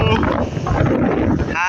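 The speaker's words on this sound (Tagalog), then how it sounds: "hangin ng bagyong Inday" Strong wind from Typhoon Inday roars into the microphone near a river by the sea, a dense, loud, continuous buffeting with someone speaking over it.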